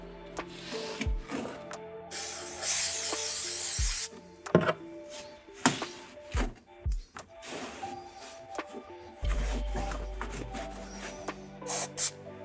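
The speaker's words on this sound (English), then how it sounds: "we'll clean all this off with some brake clean and a microfiber towel" Brake cleaner sprayed from an aerosol can onto a car's oil pan during an oil change on a 2020-2022 Shelby GT500 Mustang with a 5.2L engine, heard as a few broad hissing bursts mixed with wiping and clunking handling noises, no talk.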